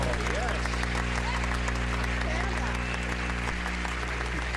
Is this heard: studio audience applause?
yes